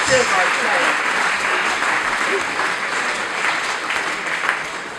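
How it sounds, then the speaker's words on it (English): A crowd applauds at a Rotary night comedy show in Gloucester Quays, with steady dense clapping for five seconds, slowly easing off toward the end. "Just give you a round of applause."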